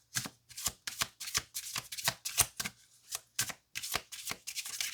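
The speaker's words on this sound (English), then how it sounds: "I'll do 3 shuffles." A tarot card deck is shuffled by hand in a quiet room, a series of crisp riffling bursts in quick succession with short pauses between them, close and clear.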